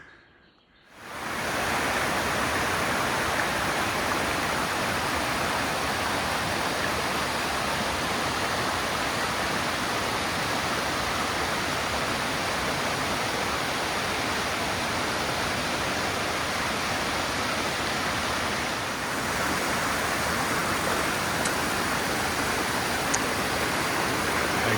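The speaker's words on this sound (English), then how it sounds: "This is Wilhelmina Falls." Wilhelmina Falls pours after good rain, a dense, continuous rushing roar of falling water close by, steady and unbroken after a brief quiet start, with no talk.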